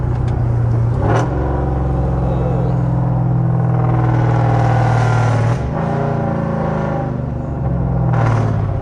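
A deep Dodge Charger engine with a 392 transmission rumbles steadily while driving, with low throaty drone and shifts in pitch as it accelerates and eases off.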